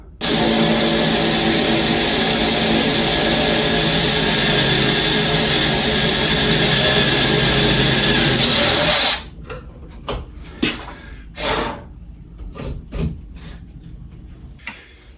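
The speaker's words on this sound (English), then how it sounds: "So first job, I'm going to drill a hole here" A power drill bores a hole through a board, running loudly and steadily for several seconds, then stops, followed by scattered clunks and handling noises.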